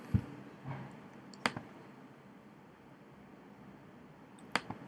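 A few sharp, sparse computer mouse clicks during a file upload, the loudest near the start and end, each brief and fairly close, with quiet room tone between and no talk.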